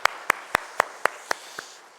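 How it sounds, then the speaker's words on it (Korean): A church congregation at a Sunday worship service claps in unison, giving seven sharp, evenly spaced claps that grow slightly softer at the end. "하나님 앞에 영광의 박수 올려드리겠습니다."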